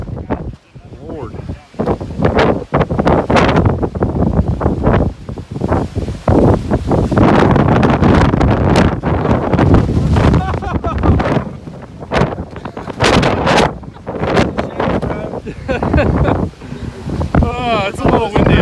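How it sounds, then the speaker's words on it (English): Strong wind buffets the microphone on a backpacking trail in Linville Gorge, a steady loud roar with gusts, while a person talks over it. "Oh, it's a little windy out here."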